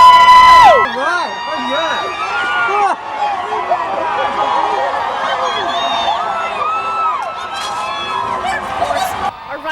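Crowd full of kids cheering along the Obama inauguration parade route on a cold day, a loud sustained mass of shrill shouts, whoops and squeals, close and continuous.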